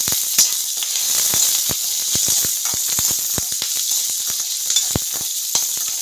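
Green chillies and onions fry in hot oil with a loud, constant sizzle, dotted with many quick crackles and pops throughout.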